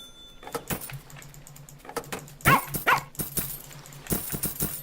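Cartoonish dogs bark in short, repeated bursts in the farming video game Plantera, over a steady low hum and scattered clicks, with two louder, closer barks in the middle.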